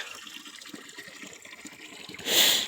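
Water runs steadily from a forest spring, a soft continuous trickle that swells into a louder gushing splash near the end, close by with no talking.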